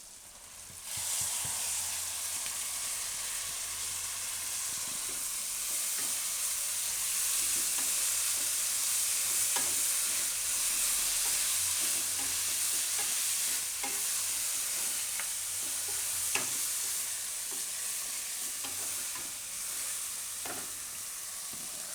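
Fresh fenugreek leaves stir-frying in a pan with turmeric, coriander-cumin powder and red chilli, a steady close sizzle with scattered stirring scrapes and clicks throughout, no talking.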